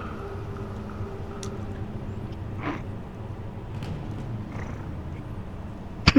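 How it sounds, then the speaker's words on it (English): A cat purrs right against a microphone, making a steady low rumble close up. A few faint clicks and rustles sit under it, with no one talking. "Comes to purr into my mic"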